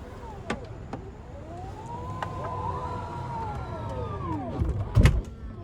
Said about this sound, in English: And then to close the door, you just hit that button right there.